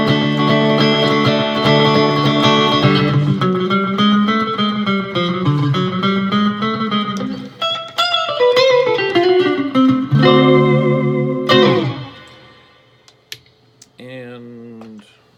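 An Eastman AR380CE hollow-body electric guitar with Filtertron-style pickups plays a clean melodic phrase with delay, the notes ringing and repeating in echoes before trailing off into a quieter tail.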